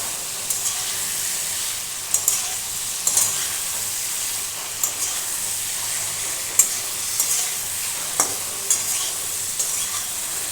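Spices with chili powder and tomatoes sauté in a pan for a ridge gourd curry, giving a continuous hissing sizzle with periodic scraping and tapping of a spoon stirring against the pan.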